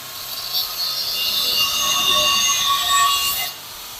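Metal motor plate pieces for a Ford Model A engine install being cut out, producing a high, squealing, whining grind that holds steady for about three seconds and then cuts off, close and loud with no talking.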